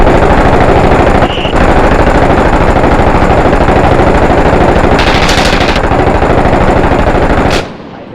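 Rapid, continuous automatic gunfire in the video game Six Days in Fallujah rattles nonstop for about eight seconds, loud and close, then cuts off abruptly.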